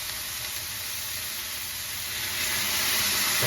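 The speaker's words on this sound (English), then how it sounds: "This will help kind of steam the spinach down." Spinach steaming down in a pan after a splash of pasta water is added for a chicken stir fry, a loud, constant hiss and sizzle that swells a little toward the end.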